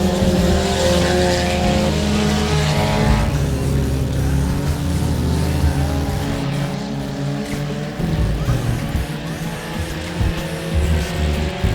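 Four-cylinder class race cars roar around the 67 Speedway of Texarkana in a loud, continuous wall of engine noise, with pitch rising and falling as cars pass close by.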